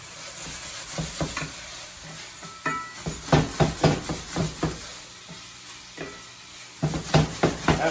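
Beef stir fry gets tossed in a hot pan, a steady sizzle punctuated by repeated close scraping and clanking strokes of the utensil in bursts.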